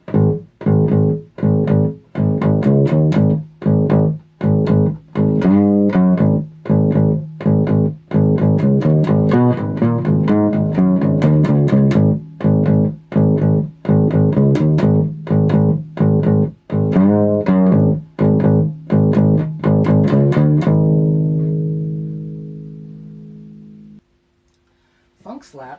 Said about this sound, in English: Driving bass line on this sounds like this.